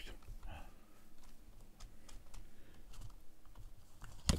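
Computer keyboard keys being tapped and handled in quick, irregular clicks, close and fairly quiet, ending with a louder clack.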